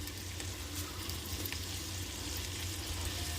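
Ingredients for paneer biryani frying in a pan, a steady close sizzle and crackle with faint stirring, continuous and even throughout.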